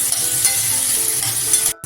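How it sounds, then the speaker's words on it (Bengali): Rice being lightly fried in a pan for pulao, with a steady close sizzle and repeated stirring scrapes that cut off abruptly near the end. "হালকা আর কি ভাজা ভাজা করে নিয়েছি চালটা"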